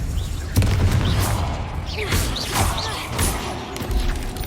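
Spell blasts from Hogwarts Legacy, fire and explosive charms, go off in quick succession as several booming thuds and crackling bursts, loud and close, over a busy game soundscape.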